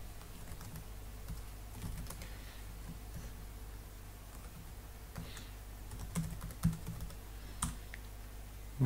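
Password keys tapped on a computer keyboard: a quiet, steady patter of light clicks over a low background hum, with a few slightly sharper strokes near the end.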